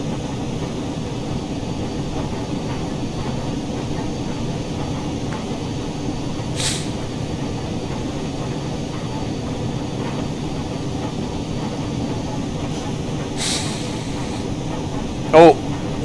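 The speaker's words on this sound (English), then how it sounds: "the noise that our trains make is hard enough for us" Steady rumbling roar of the Flying Scotsman train in motion, continuous and loud throughout, with occasional brief clanks and a sharp click near the end.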